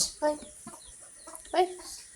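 A chicken clucks in a few short bursts amid a busy household meal setting, fairly close, with faint background noise between calls.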